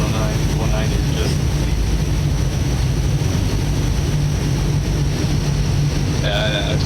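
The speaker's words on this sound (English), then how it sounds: "the engine sound doesn't actually sound like you're moving the kind of speed that you're actually doing" A Focke-Wulf Fw 190 in Microsoft Flight Simulator drones with a loud, steady, broadband engine roar throughout, with a voice talking over it.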